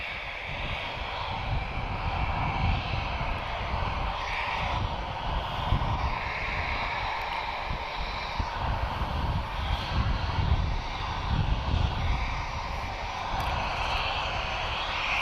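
Embraer E190 jet arriving at Lisbon Airport, a continuous low engine rumble and whine at steady, moderate loudness, heard from a distance without voices.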